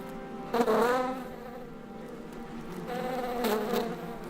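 Close, droning buzz of honey bee workers rising and falling in two bursts, with quieter humming between.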